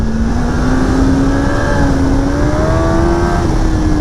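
A 2025 Kawasaki ZX-10R, a 203 hp superbike, pulls hard in a long climbing gear, its engine note rising steadily and loudly with brief dips at the shifts, heard up close with constant wind roar.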